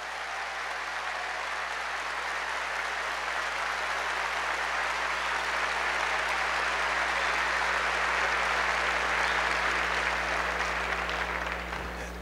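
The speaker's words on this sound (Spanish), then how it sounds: "un fuerte aplauso para estos hermanos que nos acompañan" Sustained applause from a large church congregation, steady and dense throughout, with a low hum underneath.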